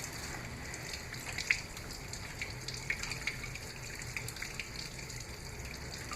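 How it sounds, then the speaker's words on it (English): A Conus textile seashell rinsed under a running tap after a bleach soak, giving a soft, steady trickle of water with a few small splashes and taps, quiet and without voices. "We're gonna rinse the Conus textile."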